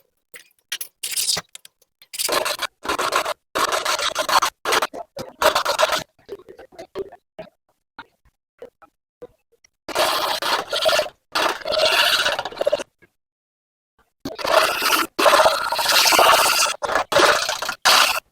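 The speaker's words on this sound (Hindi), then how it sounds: "इन स्टैक्स को हम शाइनिंग पेपर पर रब करेंगे" Stacks of magnets are rubbed back and forth on sandpaper in repeated bursts of close, gritty scraping, with short pauses between strokes and longer gaps between rounds.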